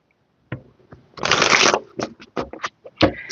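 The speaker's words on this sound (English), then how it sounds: "let's get in here and get some tarot cards out." A deck of tarot cards being shuffled up close, a few sharp taps and a riffling burst, then a quick series of crisp card slaps, loud and isolated against silence.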